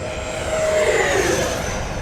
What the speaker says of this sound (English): This is a sweet airplane.